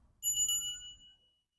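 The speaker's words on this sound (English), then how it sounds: "and then we have our ritual bell" A Vajrayana Buddhist ritual bell gives a single clear, bright strike that rings with a pure tone and fades over about a second, close and alone.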